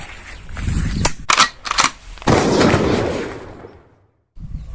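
Gun test-fired in several sharp reports in quick succession, followed by a loud sustained rumbling blast that fades into a brief silence before another burst, close and loud with no talk.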